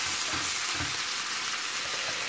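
Small merguez sausage pieces fry in olive oil in a pan, giving a dense, constant close sizzle with faint crackles and stirring scrapes and no voices.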